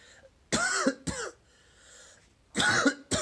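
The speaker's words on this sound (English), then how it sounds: "Man, I got like a cough." Two pairs of harsh, loud coughs close to the microphone, separated by a short quiet pause.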